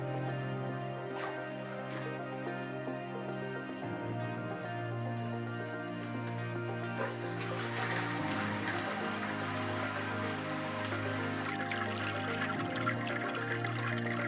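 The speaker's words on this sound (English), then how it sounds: "we can remove the grain basket and let it start to drain." Wort draining from a lifted grain basket while homebrewing a Punk IPA clone, a steady soft trickle and patter of liquid running continuously and evenly throughout, close by, with a low hum underneath.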